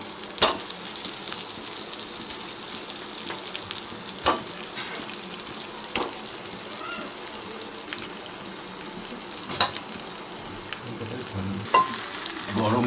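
Potatoes frying with mutton curry in a pan, a steady close sizzle with occasional sharp ticks and stirring scrapes running throughout, no talk over it.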